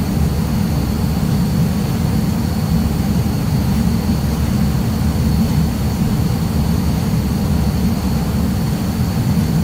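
Steady, loud engine roar from a BAE Hawk jet in Red Arrows livery in Microsoft Flight Simulator, a continuous low, dense drone with a faint high whine, unbroken for the whole stretch with no talk.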